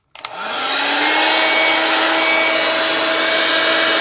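A hair dryer switches on and spins up to a loud, steady high-pitched whirring roar, blowing close up over a chalk-marked line on a blazer's fabric.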